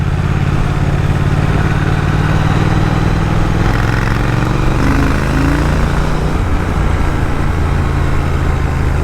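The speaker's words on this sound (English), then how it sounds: "This is a liquid cooled engine" A liquid-cooled motorcycle engine idles steadily and loudly with a low, even rumble throughout, no voices present.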